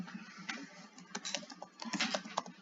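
Quiet, irregular clicks and taps come from a computer keyboard as someone types in RStudio, with short bursts of keystrokes and no talking.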